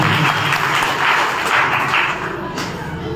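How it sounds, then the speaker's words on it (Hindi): A crowd at a political rally in Hisar, India, claps steadily in a dense, continuous wash of applause, fairly loud and sustained throughout. "जोरदार तालियों से स्वागत कीजिए"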